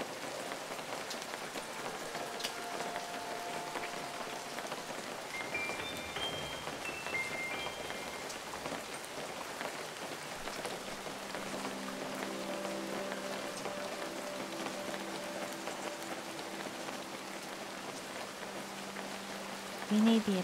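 Continuous rain pattering in the video game Feather, an even hiss of falling drops throughout with soft, sustained musical tones drifting over it.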